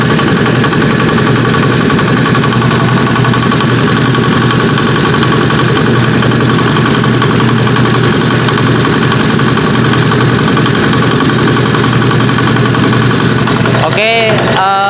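A kick-started motorcycle engine idles steadily at close range with a loud, even hum and rhythmic vibration throughout, a brief rising rev shift near the end.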